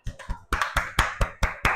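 A classroom group applauds a kinesthetic student team, rhythmic claps landing in about eight sharp, evenly spaced bursts over under two seconds, fairly close and with no talking.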